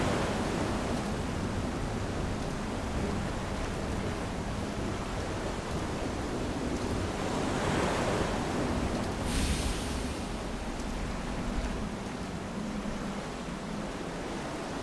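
Ocean waves in the sailing game Far: Changing Tides make a steady, dense wash of surf and wind, continuous and fairly loud with no voices over it.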